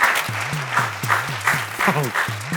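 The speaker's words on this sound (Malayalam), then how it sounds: "എല്ലാവരും കൈയടിക്കൂ" Studio audience applause on a Malayalam comedy show, sustained crowd clapping over a pulsing low musical tone, with a brief voice rising in the middle.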